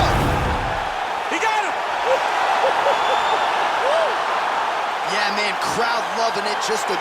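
An arena crowd in the UFC 4 mixed martial arts video game roars after a knockout, with a steady wash of cheering and scattered rising whoops and shouts, while voices talk over it.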